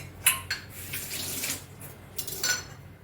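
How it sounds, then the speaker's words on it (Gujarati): Water is poured from a vessel into lentils for cooking dal, a short splashing trickle with a few light clinks of metal, faint and close, no talking. "પાણી નાખી સ્ટેન્ડ મૂકી દાળને ચડવા માટે મૂકી દો"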